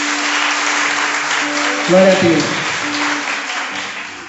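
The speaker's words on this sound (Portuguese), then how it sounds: "Agora dê uma salva de palmas para Jesus." A church congregation applauds during a sermon, a broad wash of clapping running steadily beneath a voice as he speaks over it.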